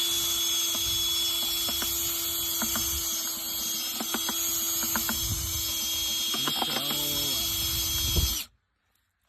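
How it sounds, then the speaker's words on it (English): A paint mixer spun by a drill churning thick shrimp bait, a steady high mechanical whine with repeated rattling knocks, close and loud, before the motor stops abruptly near the end. "Use a paint mixer."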